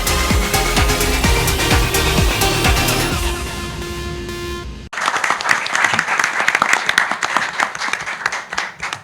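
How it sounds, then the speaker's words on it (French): Audience applause at a televised school quiz match between Lycée Kennedy and CP Mame Dabakh, with dense clapping running steadily over music and hall noise before shifting to a sharper, louder burst of many hands. "Ah, vraiment, il mérite ces applaudissements."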